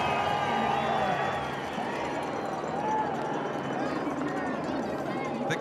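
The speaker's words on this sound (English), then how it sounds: "so many fans out there cheering for him" A large outdoor crowd at Red Bull Rampage 2021 cheers steadily for mountain biker Cam Zink, a sustained roar with whistles mixed in, under continuous commentary.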